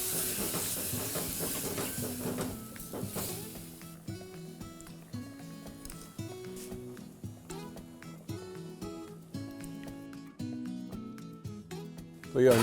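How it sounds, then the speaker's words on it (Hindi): Eggs sizzle and hiss as they go into a hot pan for egg dum biryani, a broad hiss strongest at first and then fading under steady background music. "और अब अंडे जाएंगे लगन के अंदर।"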